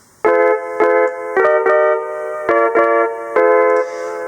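Casio MT-68 keyboard plays a song with its tuning dial turned to one end, bright chordal organ-like notes in a bouncy rhythm of short repeated stabs, loud and close with no voices.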